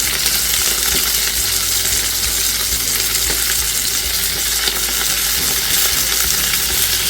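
Garlic cloves and ginger sizzle steadily as they are stirred in hot oil for a spinach, prawn and paneer dish, a dense, even crackling hiss held close and loud throughout, with scattered faint scrapes.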